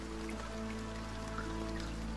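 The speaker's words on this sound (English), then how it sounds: "Of course. Rain again." Steady rain falls in the survival video game Sunkenland, a soft continuous patter of drops alongside a low ambient hum, even and unbroken throughout.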